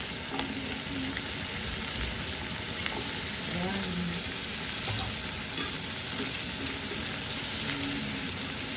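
Pork steak fries with butter and garlic in a pan, an even, continuous close sizzle with faint crackles throughout and no voices.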